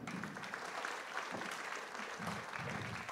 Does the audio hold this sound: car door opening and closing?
no